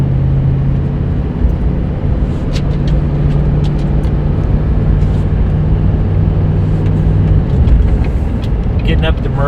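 A 2020 Chevrolet 3500 dually diesel pickup towing while merging gives a steady, loud engine and road drone throughout. It shifts in tone near the end.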